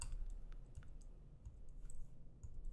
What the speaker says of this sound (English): I will check out the scores by hitting the up arrow on my keyboard